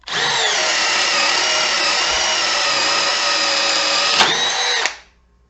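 A cordless drill bores a 3/4 inch Irwin spade bit into a pressure-treated 4x4, one loud steady whine lasting about five seconds before stopping abruptly.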